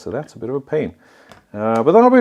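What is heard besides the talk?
No everyday noise stands out behind the speech.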